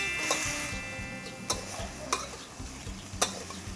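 Catfish being stir-fried in a wok with chili, a continuous hiss of frying punctuated by a few sharp spatula clacks against the metal, close and unaccompanied by speech.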